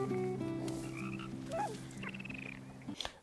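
A frog croaking in an episode of The Mandalorian, a clear close croak heard alongside tonal score and effects in the soundtrack, with no talk over it.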